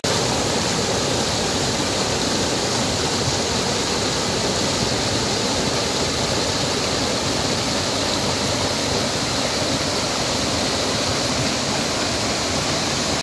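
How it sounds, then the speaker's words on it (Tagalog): Matico Falls in Sual, Pangasinan, pours as a constant, loud, broadband roar of rushing water, close and unbroken for the whole stretch, with no voices above it. "Woo! Maliku Falls guys. This is it. Matiko Falls."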